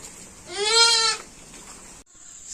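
A goat or sheep on a rural Karnataka farm bleats once, a single loud wavering call lasting under a second, near and alone against quiet outdoor background.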